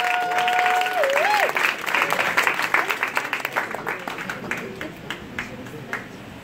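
Audience clapping and cheering for a poet at a spoken-word performance, loud at first with a whistle, then thinning into scattered claps as it fades.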